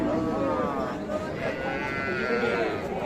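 Cattle at a busy rural cattle market moo in drawn-out low calls, one rising in the middle of the clip, amid crowd chatter and people talking nearby.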